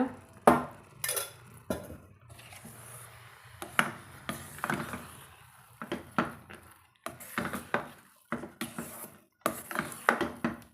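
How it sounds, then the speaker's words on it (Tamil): A metal pot of rava kichadi is handled and covered with a lid, giving sharp clanks and clinks of metal on metal in irregular bursts with quieter gaps between them and no talk. "ஒரு ஒரு நிமிஷம் மூடி வச்சுக்கலாங்க"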